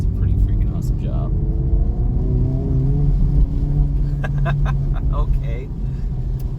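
A 2024 Acura Integra Type S accelerating on a wet, rainy road, its engine note climbing in pitch through a steady run with brief wheel slip, heard from inside over someone talking.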